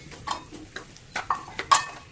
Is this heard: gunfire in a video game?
no